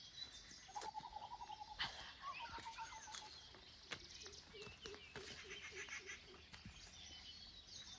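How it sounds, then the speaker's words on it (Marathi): A mix of birds calls around a village yard, faint and distant: thin whistled notes and chirps, with a couple of fowl-like calls, scattered over a soft outdoor background. "वेगवेगळे पक्ष्यांचा आवाज आहे."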